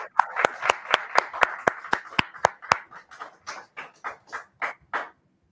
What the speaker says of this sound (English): We're gonna clap our hands is what we're gonna do.